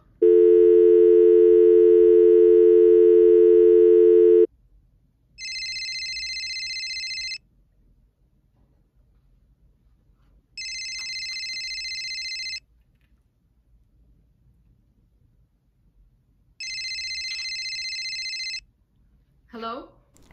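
Telephone call sequence: a long steady dial tone, followed by three evenly spaced electronic ringback bursts with silent gaps between, loud and close, ending with a brief chirp.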